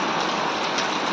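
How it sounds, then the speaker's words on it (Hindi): Steady, heavy rain poured down during days of unbroken wet weather at a goat farm. It comes as a dense, even hiss of drops on surfaces, loud and close, with no voices. "बारिश आज भी शायद बंद होगी नहीं"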